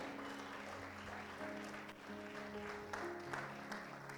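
A church congregation applauds during a sermon, a sustained wash of clapping over steady sustained musical tones, holding fairly even for the whole stretch.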